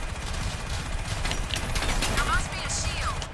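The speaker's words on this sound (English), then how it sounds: "maybe I should just stick with the minigun here" A minigun fires continuously in Crysis Remastered as a dense, rapid rattle of gunfire across the whole clip, with faint game effects and some voice beneath it.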